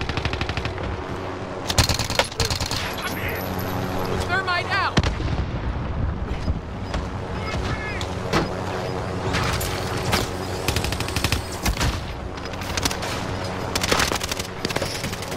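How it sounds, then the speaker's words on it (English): Video game gunfire from an online shooter match, with dense rapid automatic bursts and heavy shots that run almost continuously and loudly throughout. "Being shot at."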